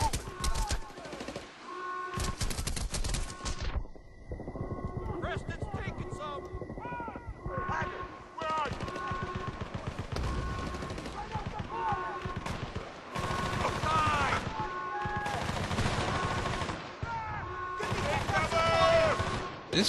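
Rapid bursts of machine-gun and rifle fire from the video game Battlefield: Bad Company, including a mounted .50-calibre gun, crackle in dense, loud volleys with brief pauses between them, while voices talk over the shooting.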